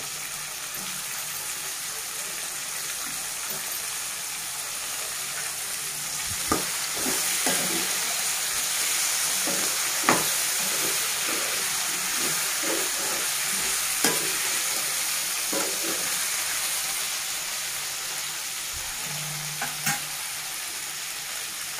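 Tomatoes frying for a potato and eggplant curry, a steady loud sizzle filling the whole stretch while a utensil scrapes and stirs the pan in repeated knocks.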